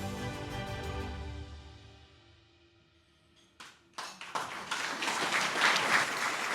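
Applause from a dinner audience builds after a quiet lull, starting with scattered claps and swelling into a dense, sustained round of clapping for a Medal of Honor recipient.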